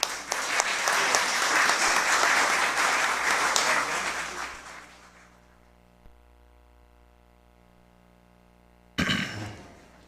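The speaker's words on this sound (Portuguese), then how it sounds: "Receba, assim, os aplausos desta Casa Legislativa." Audience applause fills a legislative chamber at an award ceremony for the Chico Mendes Prize, loud and dense for about five seconds before fading to quiet, then a fresh burst of clapping starts near the end.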